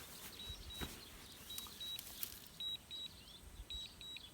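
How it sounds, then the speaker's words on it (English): A drone running low on battery gives repeated short, high electronic beeps in an evenly spaced series, faint against quiet outdoor background noise at a long-range shooting spot. "My drone's beeping at me."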